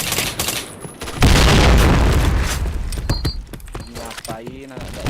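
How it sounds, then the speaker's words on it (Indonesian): A grenade blast in a shooting video game booms loudly and rolls into a long crackling rumble, followed by scattered clicks and gunfire-like pops while a voice speaks over the fading noise. "Fire in the hole!"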